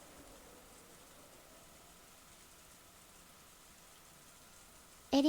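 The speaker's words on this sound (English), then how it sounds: "The silence between the two was filled by the sound of the wind and rain." Steady rain with wind in a quiet room scene from the visual novel Umineko When They Cry: a soft, even hiss that holds through the whole stretch, ending in a brief louder sound.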